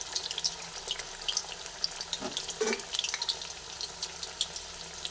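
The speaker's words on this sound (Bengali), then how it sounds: "বেসনের মধ্যে নিয়ে শিমগুলোকে ভেজে নিচ্ছি" Green beans coated in gram flour batter sizzle in deep oil with a soft, constant crackle and scattered sharp pops, fairly close and on their own.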